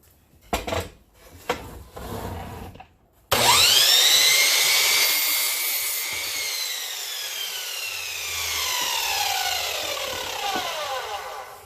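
A wooden dowel is cut to size: a few brief knocks and scrapes, a short pause, then a long, continuous sawing rasp through the wood that shifts in pitch as the cut goes on.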